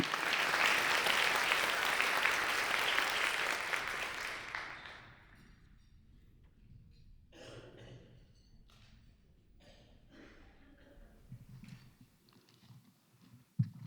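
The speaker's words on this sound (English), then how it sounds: "if you can keep the applause going" A crowd applauds at a science museum foundation event, loud sustained clapping for about four seconds that fades away, leaving quiet room noise and a few faint sounds.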